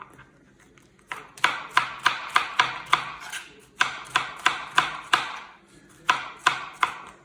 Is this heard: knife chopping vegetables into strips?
yes